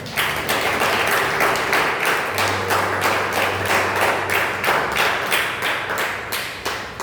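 A church congregation claps hands in a steady rhythmic beat for Jesus, many palms together in regular pulses, fairly close and continuous, with a low hum briefly underneath.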